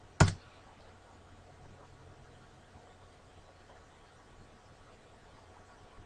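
A single sharp computer keyboard key press of the enter key, loud and close, followed by quiet room hiss.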